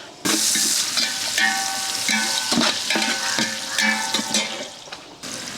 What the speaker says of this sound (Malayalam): അപ്പോൾ 3 സവാള എടുത്തൊന്ന് നമുക്കൊന്ന് വഴറ്റാം